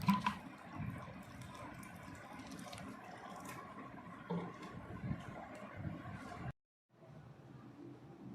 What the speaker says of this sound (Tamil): தண்ணி ஊற்றி கரைச்சிக்கலாம்.